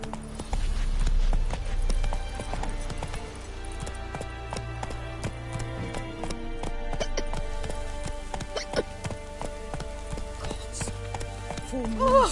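Roach, the horse in The Witcher 3, gallops with a loud, quick, continuous clatter of hooves close by, layered over background music and game ambience for the full run.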